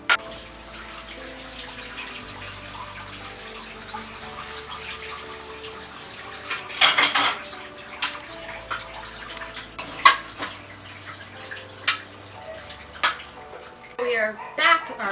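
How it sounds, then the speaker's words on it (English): Tap water runs steadily into a kitchen sink as raw beef is rinsed, a continuous wash with occasional louder splashes and clunks near the end. "now I'm going to take it over to our sink and rinse it"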